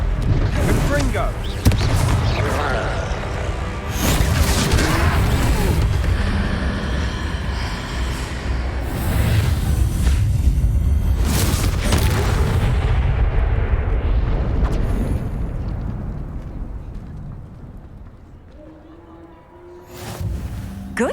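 Confringo fire spells burst in combat in the Hogwarts Legacy video game, a dense stretch of loud booming explosions and rumbling impacts that fades out toward the end, with voices speaking over parts of it.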